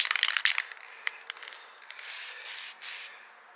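Rattle can spray paint hissing in several short bursts after some clicking and handling noise, fairly close and with no talk.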